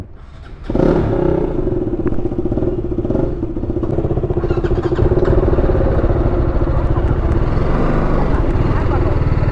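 A motorcycle engine catches and runs close by, its throttle blipped into rising, throbbing revs that hold loud and steady for several seconds.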